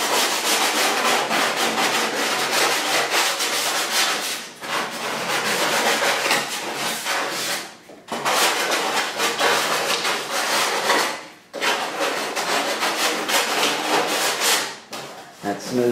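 Hand sanding the sharp edges of a club kart's rear cover with 320-grit sandpaper: steady, loud back-and-forth rubbing strokes in three long runs with brief pauses between, close up and without talk.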